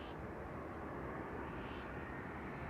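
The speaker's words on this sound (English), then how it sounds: "Now first this Embraer 190 inbound from Edinburgh" An Embraer 190 airliner inbound from Edinburgh arrives at Amsterdam Schiphol on runway 06, its engines a steady, fairly faint broadband roar that holds evenly throughout with no voices.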